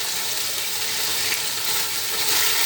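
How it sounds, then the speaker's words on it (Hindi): Mutton pulao masala with salt, garam masala and tomatoes frying in a pot, a steady, even sizzle throughout with no talking. "अच्छी तरह भूनते हैं 3-4 मिनट के लिए।"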